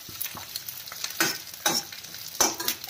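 Vegetables for a paneer sizzler are roasted in a hot pan, giving a steady sizzle under repeated scraping stirs, close up.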